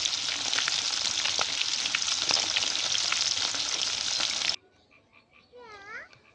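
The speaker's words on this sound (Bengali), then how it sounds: "মাছ তো ভাজাও লাগবে।" Pangas fish fries in hot oil with a loud, dense, steady sizzle for about four and a half seconds, then cuts off abruptly into near quiet with faint warbling tones.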